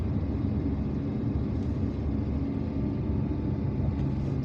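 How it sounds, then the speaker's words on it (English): A car drives along a rough, bumpy road in the town of Rahmania near Algiers, giving a steady, close, low rumbling drone of engine and tyre noise with no clear breaks. "The road is rough and bumpy here, so I've got to go easy."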